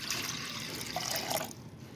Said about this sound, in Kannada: ಇದಕ್ಕೆ ನೀರು ಹಾಕೋಣ.